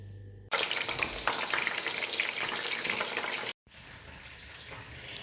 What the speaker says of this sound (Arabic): هنا ما بين الباذنجان تاعي راهو يتقلى